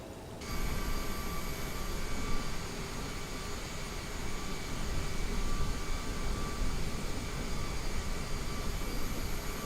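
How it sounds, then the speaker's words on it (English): Airliner jet engines roar during takeoff in Microsoft Flight Simulator 2020 at London Heathrow, a dense, steady, loud rush that swells in after a brief quiet start and holds without letting up. "Flight and attendants prepare for takeoff. all right, here we go."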